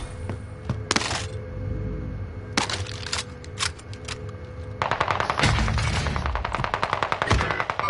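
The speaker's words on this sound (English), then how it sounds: "Got an assault rifle." Assault rifle gunfire in a video game: single loud shots early, then long rapid automatic bursts crackling close and dense through the second half.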